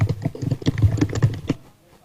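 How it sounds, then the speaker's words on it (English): Rapid, uneven clicks of a computer keyboard being typed on nearby, in a burst of about a second and a half of clattering keystrokes before falling quiet. "I'm typing."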